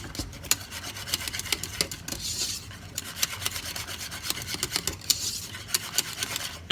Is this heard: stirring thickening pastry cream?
yes